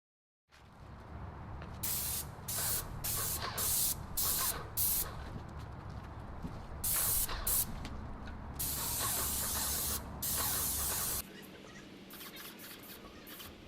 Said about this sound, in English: I'm spraying on a fairly heavy coat